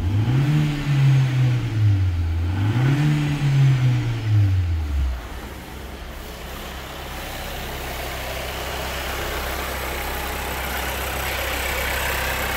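Engine of a 2020 XM3 car being scrapped, revved twice in two rising and falling swells over the first five seconds, then settling into a steady low idle. Loud and close, with no voices.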